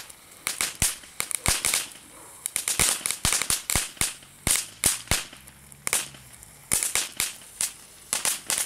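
Small, cheap, quiet-rated firecrackers crackle continuously, sharp loud pops and snaps in rapid irregular bursts with only brief gaps between them.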